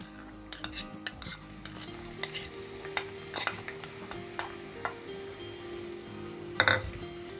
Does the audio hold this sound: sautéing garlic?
yes